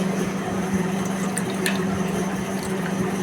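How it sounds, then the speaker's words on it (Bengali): Pointed gourds are washed in water, with a continuous loud rush of running water and sloshing close by, plus a low steady hum beneath it. "আমরা পটলগুলো ধুয়ে এই যে ভাতে দেব।"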